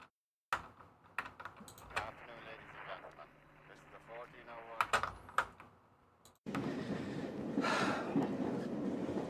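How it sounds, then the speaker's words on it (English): A moving train on an Irish short film's soundtrack bursts in as a loud, steady rumbling roar in the final seconds, after a stretch of sharp keyboard clicks and someone talking. "the train is moving"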